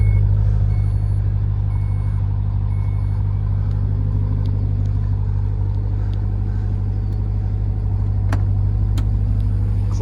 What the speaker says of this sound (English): your trunk lowering button is right here. It's going to beep at you